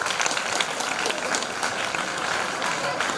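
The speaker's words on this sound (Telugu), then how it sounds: "చప్పట్లతో అభినందిద్దాం." A crowd claps steadily and densely for several seconds at an organ donation motivational speech event, a continuous wash of applause with no break.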